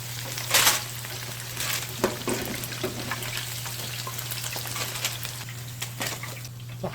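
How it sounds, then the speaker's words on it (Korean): Pork pieces coated for green onion sweet and sour pork crackle and sizzle in hot frying oil, a continuous busy spattering with a low steady hum underneath and no talking. "자, 다 튀겼습니다."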